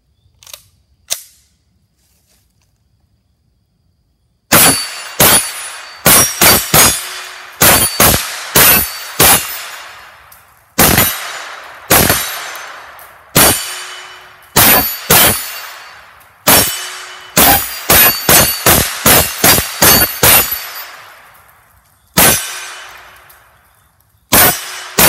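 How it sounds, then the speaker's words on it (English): A suppressed H&K SP5 fires 9mm Blazer Brass 115-grain supersonic ammo. After two faint early clicks, a long string of loud sharp reports comes with irregular spacing, some in quick bursts and others single, each with a metallic clank of the action. "I'm going to start out with the suppressor on it."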